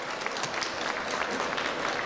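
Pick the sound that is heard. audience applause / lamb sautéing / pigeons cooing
audience applause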